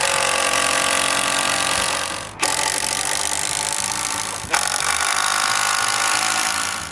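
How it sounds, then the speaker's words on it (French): A power drill drives screws into the four lower wooden legs of a timber crane, with a loud, close, whining motor that runs continuously and briefly dips twice as the tool is repositioned. "c'est le temps de visser les quatre pattes du bas"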